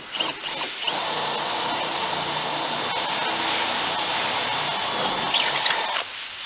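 A power drill bores holes through a rear bumper mounting plate during a Skinz rear bumper install, a loud, close, steady whine held for about five seconds before winding down.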